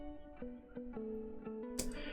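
A produced song section with tremolo applied, sustained tones pulsing and sweeping side to side in a regular rhythm, with a bright burst near the end.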